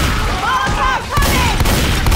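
Fireworks go off outside a window in rapid crackling bursts and booms, loud and continuous, while a voice talks over them.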